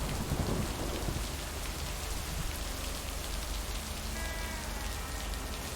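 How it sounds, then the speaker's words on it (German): Thunderstorm with steady rain in the video game Lake, a dense continuous downpour with low rumbling thunder, strongest near the start and then a constant hiss throughout, with no talking. "Oh ja, stimmt, das Gewitter"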